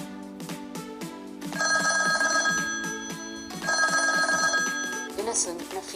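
A custom name-call phone ringtone for Android and iPhone plays, with a synthesized voice speaking over repeating bright electronic tones in a steady rhythmic pattern, loud and close.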